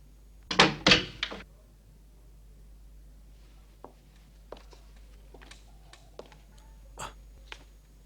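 A door thumps and rattles twice in quick succession, loud and close in a quiet room, followed by several faint scattered knocks and taps.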